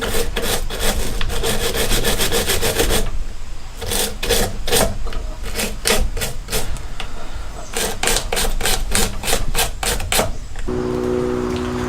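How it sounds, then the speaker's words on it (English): Electrical terminals on a Triumph Spitfire are scrubbed clean, producing quick, rhythmic rasping strokes up close in several bursts with short pauses between, ending in a low hum. "And I'm just gonna clean the existing terminals up."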